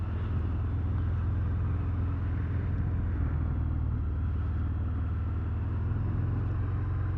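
A 2023 Harley-Davidson Fat Bob motorcycle being ridden, its engine a steady low rumble under continuous wind and road roar, close and unbroken throughout with no talk.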